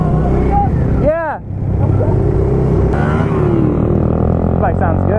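A Honda Grom motorcycle engine idles steadily in the background while people talk nearby, with a brief whistle-like sweep near the start.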